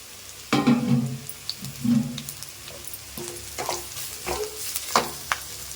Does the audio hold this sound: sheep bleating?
no